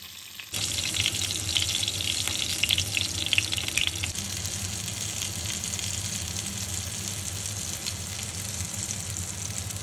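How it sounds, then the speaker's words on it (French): Food sizzles steadily in a pan with a little oil, a dense close crackling hiss that starts abruptly and carries on without a break. No one speaks. "Cuire dans une poêle avec un petit peu d'huile, environ 2-3 minutes de chaque côté."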